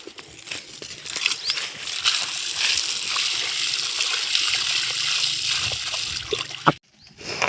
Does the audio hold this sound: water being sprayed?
yes